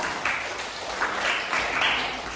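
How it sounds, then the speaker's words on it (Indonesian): Brief applause from a group in a classroom, a steady soft patter of clapping at moderate distance, slightly swelling in bursts, with no voices standing out. "Tepuk tangan"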